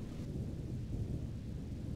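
Thunder from a lightning strike rolls as a continuous low, distant rumble, fairly quiet and steady with no voices over it.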